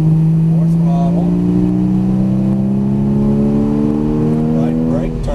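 An exotic car's engine drones loud and close on a racetrack, its pitch climbing steadily under throttle while a voice talks over it.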